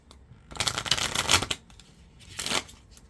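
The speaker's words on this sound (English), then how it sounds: "I shuffled them backwards." Oracle cards being shuffled by hand, a dense papery riffle of rapid card flicks in two bursts, the first longer and louder, the second shorter, up close with no talking.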